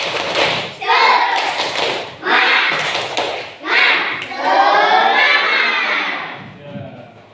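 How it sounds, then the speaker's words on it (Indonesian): A classroom of children performs a rhythmic 'tepuk semangat' clapping chant, with group voices chanting in bursts alongside sharp, patterned claps and thuds, loud and close, with short pauses between phrases. "ya kita tepuk semangat"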